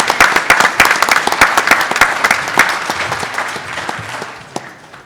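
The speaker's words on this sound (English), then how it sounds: "So round of applause for them" A round of applause from a panel discussion audience for the event organisers, crisp individual claps from a modest crowd, loud at first and then thinning and fading over about five seconds.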